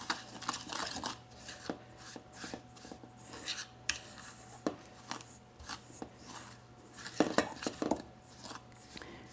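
A spoon stirs sugar and chocolate chips together in a bowl, giving repeated scraping and clinking strokes in an irregular rhythm, close and moderately loud, with no talking.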